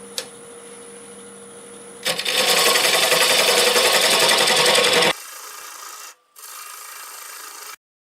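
Camellia stump spinning on a wood lathe at about 600 RPM, cut with a 3/8 swept-back gouge: a steady hum, then a loud harsh scraping rasp for several seconds, followed by quieter cutting and a short pause.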